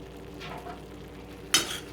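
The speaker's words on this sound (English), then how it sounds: "So what I'm going to do is I'm going to add the kale." Fresh kale dropped into a pan of hot olive oil bursts into a sudden loud sizzle late in the clip, then settles back to a soft crackle over quiet kitchen background.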